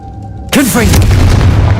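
A Confringo fire spell blasts off in Hogwarts Legacy, a sudden loud boom after near silence, with a sweeping whoosh and a rumbling tail that lingers close and full.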